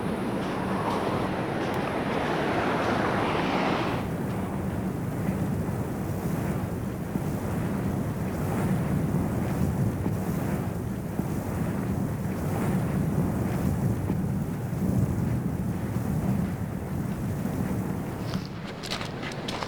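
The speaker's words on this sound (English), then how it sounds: "this is the next river we need to cross" Continuous rushing river water flows in a Costa Rican jungle with heavy wind buffeting the microphone, a steady broadband roar lasting the whole time.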